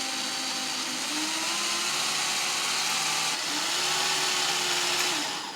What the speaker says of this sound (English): I just turn the drill just a little bit left and a little bit right